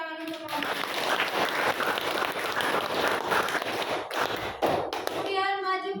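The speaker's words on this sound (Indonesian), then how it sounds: "kasih tepuk tangan untuk kelompok." A classroom of students applauds a presenting group after a biology presentation on digestion, a burst of close, busy clapping and scattered voices lasting a few seconds, with a teacher's voice before and after.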